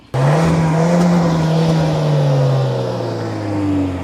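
A 2024 Hyundai Alcazar engine starts and settles into a steady, loud idle, its exhaust droning close by with a slowly falling pitch, with no talk over it.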